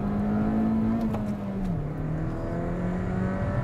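A 2013 Mini Cooper John Cooper Works GP engine drones steadily from inside the cabin, its pitch climbing and dropping slightly as the driver accelerates and shifts.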